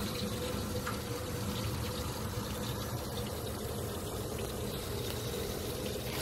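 Water laced with air bubbles rushes through a Pentair MasterTemp 400 pool heater after the pipes were reconnected, a steady, close gurgling hiss of flowing, fizzing liquid that holds even and continuous without talk.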